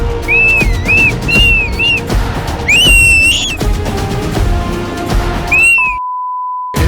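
A girl whistles a string of bright, looping tunes on a television stage show, repeated warbling phrases up close over loud background music, ending with a brief steady beep.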